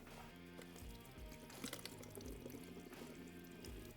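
Water-based coolant drains from an open motorcycle radiator after the drain plug is pulled, making a soft, steady trickle and patter of liquid. The sound is faint and continuous, with no speech.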